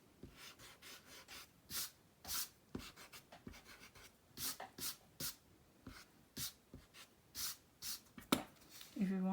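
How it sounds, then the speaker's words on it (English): A pencil eraser rubs out guidelines on a paper octopus drawing in quick back-and-forth bursts, close and fairly soft, with short pauses between strokes. "Erase the guidelines."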